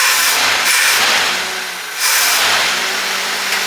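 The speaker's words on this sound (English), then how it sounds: "We'll rev it up a little." A 1978 Lincoln Continental with a 460 big block V8, revived after sitting buried for 15 years, revs up loudly with a brief dip partway through before climbing again, close by and without talk.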